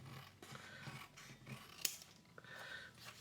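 Scissors snip through a paper journal tag in several quiet, separate cuts spaced irregularly, close by, with one sharper click partway through.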